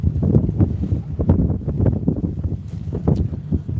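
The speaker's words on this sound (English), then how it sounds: "I'm going to show how fast is that wind." Morning wind gusts across Oneida Lake and buffets the microphone in a continuous low, rumbling roar with uneven surges and no voices.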